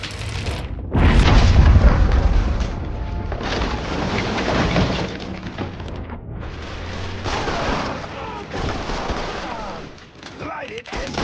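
Explosion in the video game Mafia 3 Definitive Edition, a loud booming blast followed by sustained rumbling debris and crackling fire, with shouted voices over the chaos.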